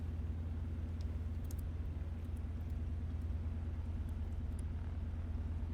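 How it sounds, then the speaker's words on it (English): A de Havilland Beaver's radial engine drones in flight simulation as the propeller is cycled, giving a steady, even rumble with no clear change in pitch. "We're going to cycle the propeller."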